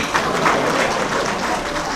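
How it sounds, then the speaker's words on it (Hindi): Mothers in the audience at a free cataract surgery camp in Vatsalya Gram, Vrindavan, clap together in a steady wash of applause that fills the whole stretch, fairly loud and close. "देखो कितनी जोर से तालियां बजाई हैं माताओं ने।"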